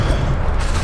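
A spell cast in Hogwarts Legacy, heard as a short, dense low boom with a rumbling burst that fills the whole brief moment, loud and close, with no voices.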